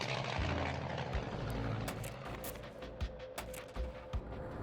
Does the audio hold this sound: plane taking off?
yes